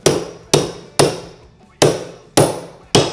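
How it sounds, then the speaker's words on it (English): Six sharp hammer strikes on a tucker tool pressing a stair runner into place, evenly spaced roughly half a second apart with one longer gap, close and loud, each ringing briefly before fading. "Take our hammer and our tucker."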